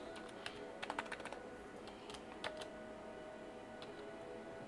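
Typing on a computer keyboard, a quiet patter of scattered key clicks with a few sharper taps and pauses, close and faint against a low steady room hum.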